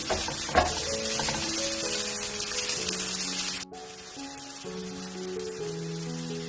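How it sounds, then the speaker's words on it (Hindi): Mixed vegetables with capsicum fry in a pan over a low-medium flame, making a steady, fairly quiet sizzle with soft stirring sounds and faint background tones, dipping briefly in the middle. "आपने लो मीडियम फ्लेम पे सारी वेजिटेबल्स को कुक करना है।"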